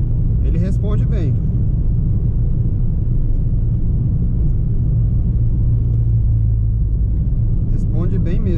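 Ford Ka 1.5 SEL 2018 pulling in fourth gear at low revs around 2,000 rpm, a steady low engine drone with road rumble throughout, joined by brief bursts of speech near the start and end.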